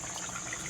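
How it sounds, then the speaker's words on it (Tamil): About a quarter litre of water is poured into a pot of Kerala-style coconut chicken curry, giving a brief, steady, faint rushing splash with no voices. "ஒரு 1/4 லிட்டர் தண்ணி சேர்த்துக்கிறேன்."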